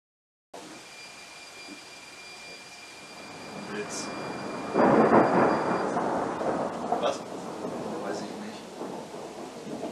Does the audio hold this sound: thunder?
yes